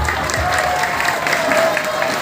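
Audience applause at a religious gathering with Baduy converts, steady broadband clapping filling the whole stretch with a faint sustained tone underneath, moderately loud and close.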